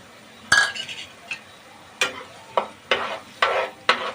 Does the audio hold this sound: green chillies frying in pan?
yes